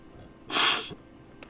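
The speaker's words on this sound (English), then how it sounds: "Apologize for any sniffling allergies." A single sniffle from someone with allergies, a short breathy intake of air close to the mic, with a faint second sniff just after in an otherwise quiet room.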